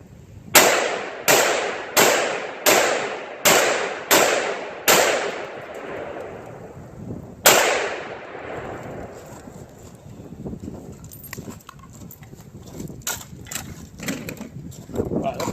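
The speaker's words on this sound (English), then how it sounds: "I'm going to see what the AR pistol does now" An AR pistol with a 7.5-inch barrel fires eight sharp, loud shots outdoors: seven in a fast, even string, then one more after a pause, each ringing out with a long decay. Afterward faint rustling and a voice follow.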